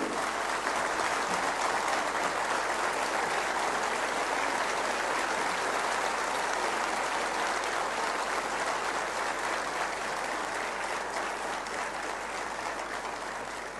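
A large audience claps steadily and loudly for the whole stretch, a dense, even wash of applause from start to finish with no voices rising above it.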